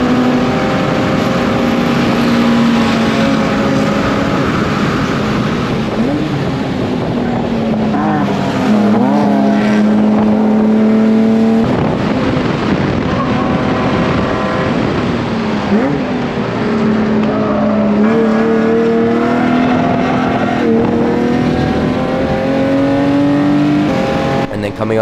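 Race car engine howling at steady high revs on a track during a NASA time trial warm-up lap, loud and continuous with pitch rising and dipping through gear changes, a voice talking over it.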